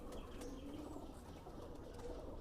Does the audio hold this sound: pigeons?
yes